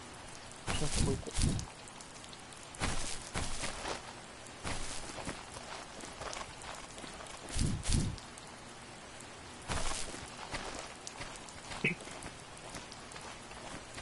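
Steady rain falling outdoors during the rainy season, a continuous wash of patter with scattered louder drops and what may be footsteps, while people talk intermittently over it.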